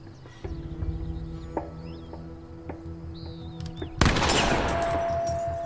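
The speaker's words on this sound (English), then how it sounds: "Any shotgun is going to obliterate a bottle." A loud, sudden blast from a shotgun in the horror video game The Quarry sets off a broad burst of noise that decays into sustained reverberant noise under the steady game ambience with faint bird-like chirps.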